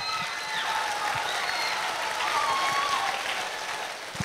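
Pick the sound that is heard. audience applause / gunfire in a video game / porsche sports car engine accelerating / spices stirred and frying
audience applause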